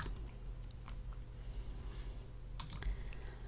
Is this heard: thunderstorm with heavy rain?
no